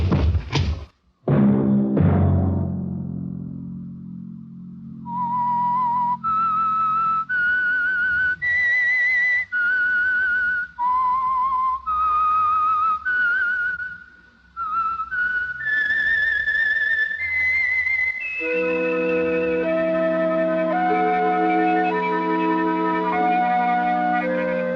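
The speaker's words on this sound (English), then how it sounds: "Let that whistle be your signal for the Whistler each Sunday night at this same time." A lone whistler performs a radio drama's theme signal, a clear melodic tune of held, sliding notes after a few sharp opening knocks, ending as orchestral music swells in underneath.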